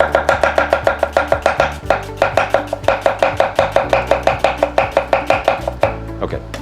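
A knife slices thinly through an onion on a board, giving a steady, fast run of crisp close chops with brief pauses, loud and alone without any talking.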